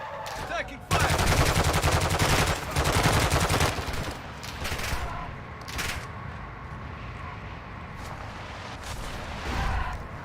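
Loud, sustained rapid gunfire in a video game, dense automatic bursts for several seconds before easing into scattered shots and lingering background noise, heard up close with no talk over it.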